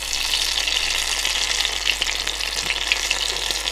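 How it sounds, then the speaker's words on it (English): Turon, Filipino banana spring rolls, sizzles steadily in a hot frying pan, a dense crackling hiss with occasional louder pops and no voices. "Sizzling away."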